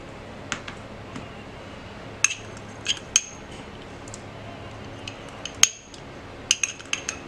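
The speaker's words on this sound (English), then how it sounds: "I'm going to get some of the thickener out of the jug and just put a tiny touch of Brusho in and give it a good mix up" A tool stirs Brusho colour into thickener in a jug, giving scattered light clinks and taps of utensil against container at an uneven rhythm, close and fairly faint. No talk.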